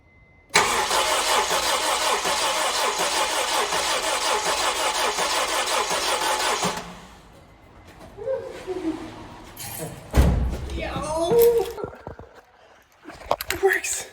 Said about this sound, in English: I'll put the fuel pump fuse back in and then see if it starts.